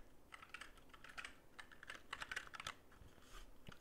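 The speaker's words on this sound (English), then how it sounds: "It has brown switches, so my videos will be a little bit quieter." Steady typing on a lightweight 60% custom keyboard with Gateron Brown switches and arrow keys, a quick close run of soft tactile clicks and key thocks, fairly quiet and alone.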